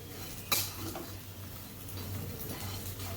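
Coriander fritters (kothimbir vadi) frying in a pan over a medium flame, a steady low sizzle with a sharp clink of utensil near the start and faint stirring scrapes throughout.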